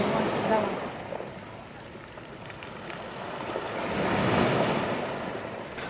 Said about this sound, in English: The rocks make music as it retreats out.